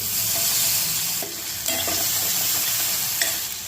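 Chillies and tomatoes stirred as they fry in a pan with asafoetida, turmeric and curry leaves: a steady close sizzle with scraping stir strokes, and no voices.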